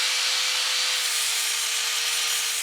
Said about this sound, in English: So let's grind that out.